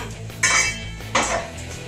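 Beans go into a pot of boiling chili in a home kitchen, marked by two sharp metallic clanks against the pot about a second apart over a low background rumble.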